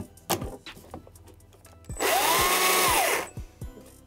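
An electric saw powered by solar and wind batteries in an off-grid house runs in one loud, steady burst of about a second, framed by quieter knocks and handling sounds before and after.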